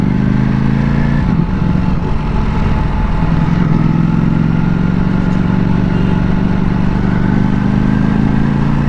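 Ducati Panigale V4S motorcycle ridden on the road, its engine droning loud and steady throughout with a shifting low rumble and a brief change in tone early on, no talk.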